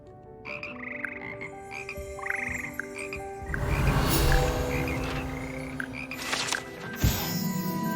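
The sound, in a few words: frog choir croaking in the video game Hogwarts Legacy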